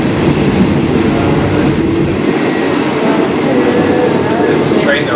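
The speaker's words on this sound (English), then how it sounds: "This is a great train ride." A train carriage rolls along the rails on a scenic ride in Thailand, making a loud, continuous rumble and clatter of wheels on track with faint squeals, heard from inside the car.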